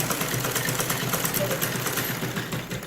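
A sewing machine stitching cloth for a salwar hem, running with a continuous rapid mechanical chatter at close range.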